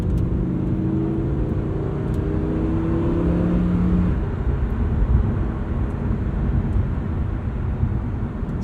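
A Lamborghini Huracan cruises in Strada regular drive mode, its engine a steady low hum with road and wind noise, briefly rising in pitch before settling into a constant rumble.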